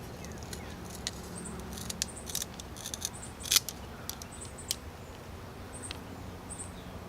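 Small blade cutting through a willow branch: soft, scattered snips and crisp cracks close by, against a quiet outdoor background.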